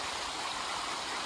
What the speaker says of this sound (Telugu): ఆ వాటర్ సౌండ్ వింటుంటే చిన్నగా ఏదో తెలియని అలజడి.